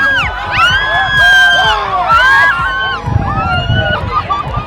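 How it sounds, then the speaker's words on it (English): A racecourse crowd cheers at the Kalgoorlie Boulder horse race meeting, loud whoops and shouts swelling and overlapping, with an announcer-style voice and mixed chatter throughout. "Another big crowd is building"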